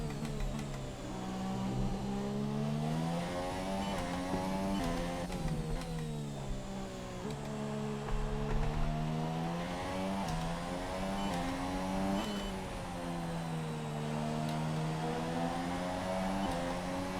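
Race car engine in an F1 racing video game at the Hungary Grand Prix, revving continuously with rising and falling pitch through gear changes, loud and steady throughout with no talking.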